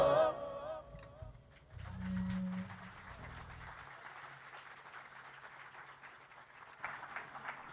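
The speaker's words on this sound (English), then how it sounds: "I know you want to clap a little louder, a little longer, a little better" Audience applause at a university induction ceremony rises after a short spoken passage and continues as a soft, sustained patter of clapping at a moderate distance.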